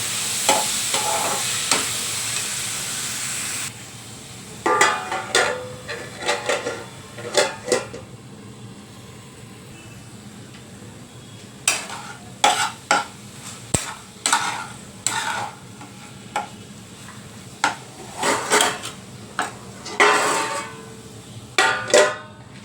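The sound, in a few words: stirring fenugreek greens (methi bhaji) in a pan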